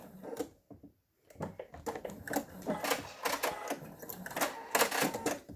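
A domestic sewing machine back stitches fabric in short, close, clattering bursts of rapid needle chatter, with brief pauses and one quiet gap between runs.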